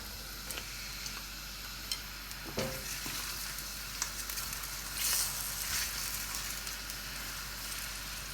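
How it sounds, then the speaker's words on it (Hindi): Finely sliced onions, two medium ones, frying in oil in a pot for mutton yakhni pulao, a steady close sizzle with faint crackles and occasional stirring scrapes throughout, no voices. "अब अनियन हमारा जो है वो फ्राई हो गया है।"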